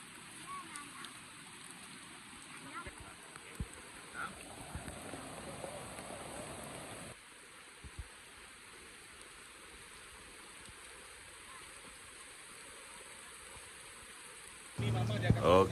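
Steady rain falls in a forest beside a river campsite, a soft, even hiss of drops that dips partway through and ends with a brief louder rustle near the close.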